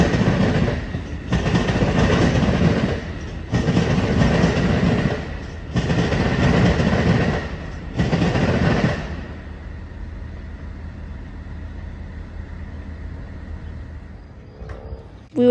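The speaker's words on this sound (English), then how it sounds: "we would see Amtrak 7 with 2 ALC 42s leading, bound for its Crosse station stop." Amtrak 7 passenger train led by two ALC-42 locomotives rolls past near La Crosse, a close, loud rumble of cars pulsing in regular surges before fading to a lower distant hum.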